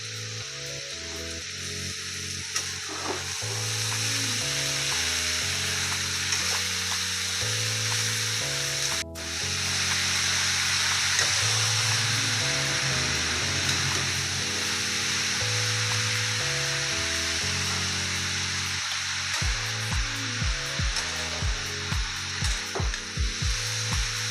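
Papaya frying in a hot pan with salt, a continuous loud sizzle over a long stretch, broken by occasional clinks and scraping stir sounds.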